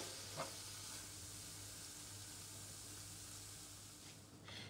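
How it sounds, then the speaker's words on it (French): Onions frying in a pan give off a steady, faint sizzle and hiss close by, with a couple of light stirring clicks and no talking. "L'oignon commence à rissoler"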